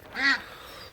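A small caged quail gives a single short, nasal call while waiting to be fed, close by and clear, followed by near silence.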